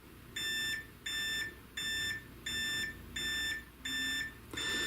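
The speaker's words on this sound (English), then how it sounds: "I just want you to hear what the alarm is like." A FlexiSpot standing desk timer alarm sounds seven evenly spaced, clear electronic beeps, each about half a second long, over a faint steady room hum.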